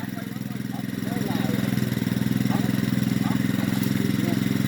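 A small engine-driven water pump runs steadily at a steady throbbing idle-like pace, close and loud, as water is pumped out of a creek to catch fish, with no speech over it.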